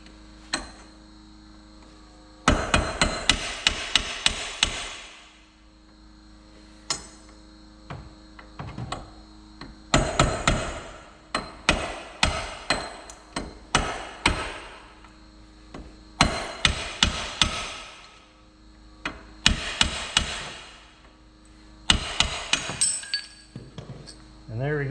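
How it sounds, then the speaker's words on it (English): Hammer hitting a chisel against a Smart Fortwo front wheel hub to drive out a worn axle bearing, in repeated bursts of sharp metallic clanks and ringing strikes under a steady background hum. "just give it a couple whaps with the hammer"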